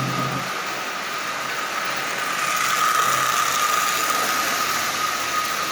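A repaired Marx 999 toy train locomotive motor runs steadily, giving a close, continuous whirring and gear-rattling buzz with a faint high whine, with no talking.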